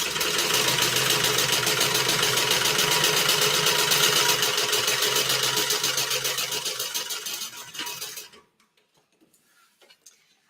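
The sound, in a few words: sewing machine stitching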